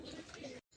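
Domestic pigeons taking off and flapping around a rooftop landing stand, with soft cooing and wing flutter filling the air close by, then cutting out briefly before resuming.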